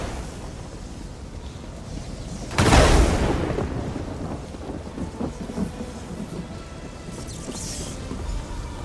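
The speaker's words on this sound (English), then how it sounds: "Now you get the lightning!" A crackling lightning spell in Elder Scrolls Online strikes with a sudden loud thunderous burst, which then trails off into a steady rain-like hiss.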